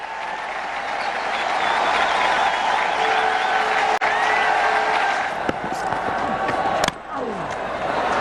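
Spectators at a Test cricket match between India and Sri Lanka at Green Park Stadium applauding a century, a steady wash of crowd clapping with a commentator talking over it and a couple of sharp knocks.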